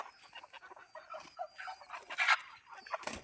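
Soft, scattered clucking of several free-range native village chickens close by, with a few louder squawks toward the end.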